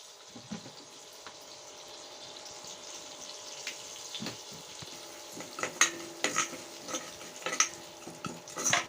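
A tempering of mustard seeds, fenugreek, cumin, a dried red chilli and asafoetida fries in hot oil with a soft sizzle, broken by sharp crackles and pops that grow busier toward the end, plus a light scrape of stirring.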